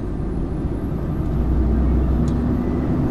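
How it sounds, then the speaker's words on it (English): Loud, steady diesel engine of a Class 1 HGV truck out on a malt-loading run near Northallerton, a heavy low rumble filling the whole stretch close up from the cab, with no talking. "God, this truck is so loud."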